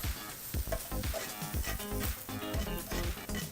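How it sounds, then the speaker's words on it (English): Onion and portobello mushrooms sautéing together in a pan, a close crackling sizzle with rhythmic scraping and stirring knocks throughout. "all I'm doing is sauteing the onion and mushrooms in the pan together"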